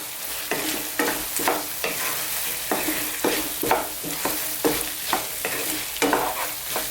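Carrots and chili are stirred in a hot pan beside frying pork sausage, with regular scraping strokes of a utensil about every half second over a constant sizzle, close and clear.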